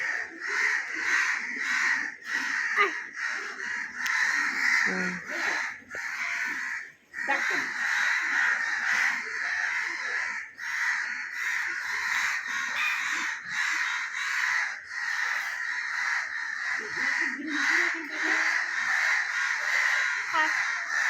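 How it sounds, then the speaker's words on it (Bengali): A flock of crows caws loudly and continuously, many harsh calls overlapping close by with barely a pause throughout. "এই যে কত কাক কান্না করছে"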